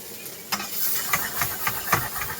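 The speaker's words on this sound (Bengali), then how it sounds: "ভেজিটেবলগুলো কাটা শেষ হতেই ডিম আর রুটিটাকে বেশ সুন্দরভাবে ভেজে নিল" Egg and a bread roll fry on a street-food griddle, a close sizzling hiss broken by several sharp scraping, stirring knocks at an uneven rhythm.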